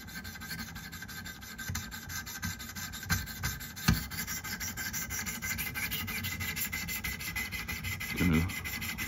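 A knife blade rubs back and forth on a sharpening stone while a burr is raised, giving soft rasping strokes with occasional sharper scrapes, fairly close and quiet.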